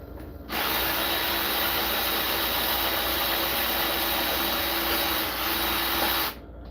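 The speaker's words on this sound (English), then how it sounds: "you're gonna take the last bolt from the power steering pump," A power tool, likely an impact or ratchet driver, runs steadily and loudly for about six seconds while backing out the top bolt of a car's power steering pump, starting and stopping abruptly.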